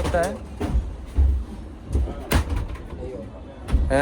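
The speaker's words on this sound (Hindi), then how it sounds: "अब ये दरवाज़ा बंद नहीं हो रहा" A compartment door on a first-class train in Cameroon is opened and shut, giving a few dull knocks and thumps under someone talking close by.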